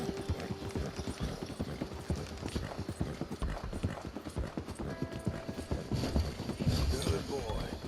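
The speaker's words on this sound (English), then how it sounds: "every time I see a horse run onto the track like this" A horse gallops along a track in the video game Red Dead Redemption 2, its hooves beating in a fast, steady rhythm that continues throughout under a constant rattling background hum.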